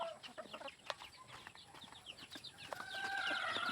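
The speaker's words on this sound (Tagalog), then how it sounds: "Yan ang ating mga alaga ditong sisiw" Chicks in a cage at a backyard poultry pen chirp and peep in quick high bursts, with a few louder calls and a rooster-like crow building toward the end, no talking.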